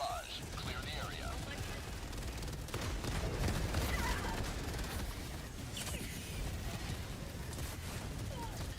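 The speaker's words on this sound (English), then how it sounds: "Firing orbital barrage." An orbital barrage strike in Helldivers 2 arrives as a dense, continuous rumble of distant and closer explosions and crackling fire that rolls on for several seconds, with faint voices underneath.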